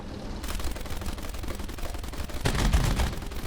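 B-17G bomber guns fire in a video game, dense rapid bursts of gunfire crackling continuously, with a louder, heavier volley near the end; no talking.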